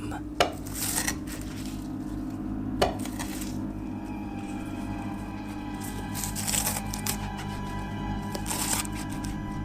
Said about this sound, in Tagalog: narinig ko ang paghiwa ng mga gulay at sangkap sa lulutuin kong ulam